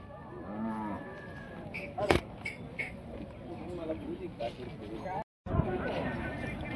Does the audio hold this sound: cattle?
yes